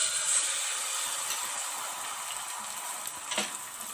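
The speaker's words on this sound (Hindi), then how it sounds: "इसमें अब उसी पैन में थोड़ा सा ऑयल जाएगा और उसमें जो फेटे हुए अंडे ये थोड़े से डालेंगे।" Beaten eggs frying in a little oil in a pan, a soft, steady sizzle heard close up with a faint tap partway through, no voices.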